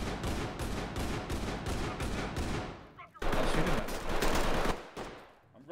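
Rapid gunfire in The Quarry, a modded multiplayer shooter map, rattles on in dense bursts, cuts out briefly, then resumes just as loud and close, with a voice faintly underneath.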